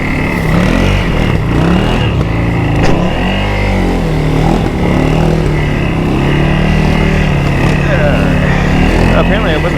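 CFMoto CForce 600 ATV engine drones steadily and loudly while driving through ice, with crunching, splashing and rough textures mixed in and a person speaking over it.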